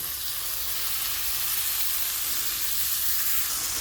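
Chopped carrots and beans sizzle steadily in a hot pan for an upma dish, a constant bright frying hiss with no talk over it.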